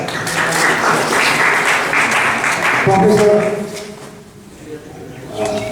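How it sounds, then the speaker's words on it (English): An audience at an architecture lecture in Nepal applauds warmly for a visiting professor, a loud, full round that fades after a few seconds as a voice begins speaking over the tail. "Give him a huge applause"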